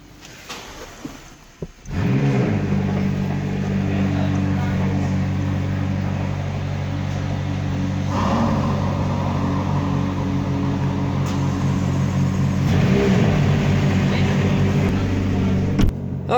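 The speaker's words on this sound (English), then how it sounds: "he gets the honor of filming the cold start of all the cars" McLaren 570S cold start: after a few quiet clicks, the engine catches with a sharp roar, then settles into a loud, steady high idle with small swells, close by.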